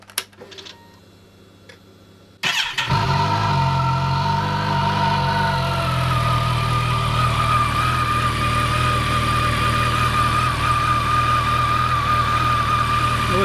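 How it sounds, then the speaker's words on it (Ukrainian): A Kawasaki ZX14 motorcycle engine cranks and catches after a quiet moment, then settles into a steady, loud idle with a constant hum that holds to the end. "завожу мотор ну, ось, і показую"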